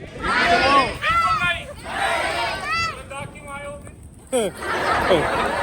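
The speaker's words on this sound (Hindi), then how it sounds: "तो भाई कितनी भीड़ है भाई" A packed cinema hall full of loud crowd chatter and shouting, dense overlapping voices with whoops and cheers rising and falling close by.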